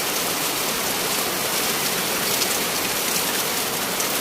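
Heavy rain in Isan, Thailand, falling as a dense, steady roar of water on surfaces, loud and unbroken throughout with no voices.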